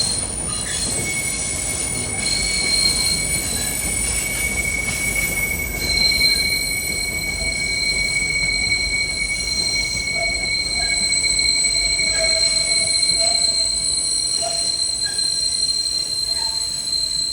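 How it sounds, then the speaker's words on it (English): A Broad Street Subway train pulls into the terminal station, its wheels squealing in sustained high-pitched whines over a low steady rumble of rolling railcars, loud and continuous and near, with no voices. "this train that's terminating here is coming into the station"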